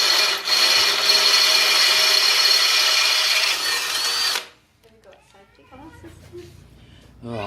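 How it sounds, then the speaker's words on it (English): A power drill bores a small pilot hole through hard material on a bobber motorcycle build, giving a loud, steady whine for about four seconds before cutting off, followed by quiet handling noises. "Much easier to drill a small pilot, especially through harder material"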